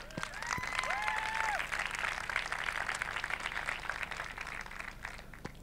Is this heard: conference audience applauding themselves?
yes